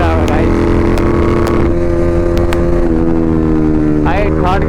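A motorcycle roars past very close in a loud fly-by, its engine droning and rising in pitch as it accelerates, with brief wind buffeting and a voice partly buried under the noise.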